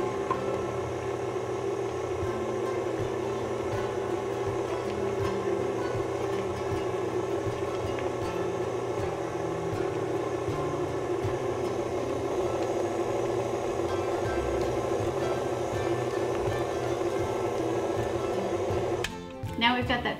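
An electric mixer beats cream cheese pound cake batter as eggs go in one at a time, a steady mid-pitched whirring hum running without a break, stopping with a brief clatter near the end.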